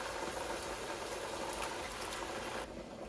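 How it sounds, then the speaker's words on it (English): Chicken broth and diced tomatoes heating toward a boil on high heat, a steady, dense bubbling hiss that fills the clip and drops off sharply near the end, with no voices. "And this is working on coming to a boil."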